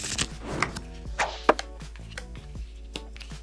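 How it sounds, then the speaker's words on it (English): Playing cards dealt one at a time in an Oh Hell card game, a few crisp slaps and flicks landing close by on a table, with no talking. "I'll start as the dealer, giving everyone just 1 card"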